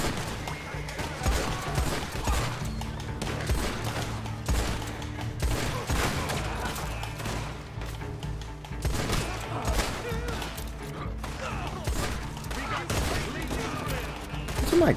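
Guns fire in the video game Red Dead Online, a near-constant barrage of loud shots and volleys with dense, irregular bursts throughout, while a voice talks at times over the shooting.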